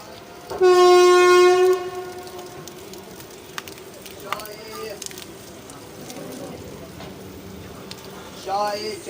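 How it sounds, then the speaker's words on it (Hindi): The Kathgodam–Dehradun Janshatabdi LHB train sounds one long, loud horn blast at the station as it prepares to depart, followed by quieter platform ambience with scattered faint noises. "फाइव मिनट के स्टॉप के बाद हमारी ट्रेन का यहाँ से डिपार्चर हो रहा है।"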